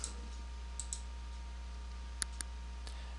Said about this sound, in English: then we're going to click on the menu button